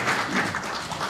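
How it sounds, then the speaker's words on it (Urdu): An audience claps for Zeeshan at a book inauguration event, a short burst of steady applause from a crowd in the hall, moderately loud throughout with no speech over it. "ان کے لیے بھی تالیاں ہونی چاہیے"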